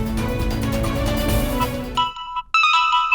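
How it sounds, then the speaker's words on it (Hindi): A phone ringtone chimes near the end after a stretch of music, its bright repeating tones loud and close. "कम से कम उसके फोन की घंटी तो बजती है"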